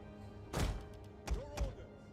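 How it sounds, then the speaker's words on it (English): Three heavy thunks from ballista firing in Rome II Total War, spaced about a second apart over a low battlefield hum, the last followed by a brief whistling tone. "Field artillery ready! Ballista!"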